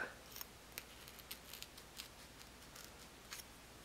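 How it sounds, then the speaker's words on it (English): X-Acto blade slicing along fabric over foam, faint scratchy snips and light ticks repeating at an uneven pace, close but very quiet against a soft background hiss. "I'm just gonna slip in my X-Acto blade and cut along that"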